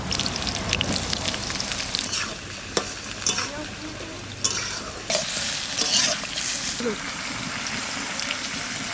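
Brinjal pieces fry in a pan for a raw mango pickle, with steady close sizzling and repeated scraping stirs and clinks throughout, while a voice speaks briefly over the cooking.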